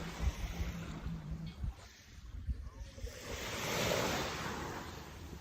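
Waves wash onto a beach in Thailand as a soft, continuous rushing surf, with wind buffeting the microphone and a swell building near the end, fairly faint and without speech.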